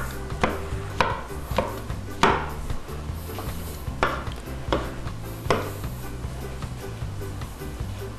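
Mushrooms coarsely chopped with a knife on a board: a string of irregular, fairly quiet thuds spread out with short pauses, close by and with no talking.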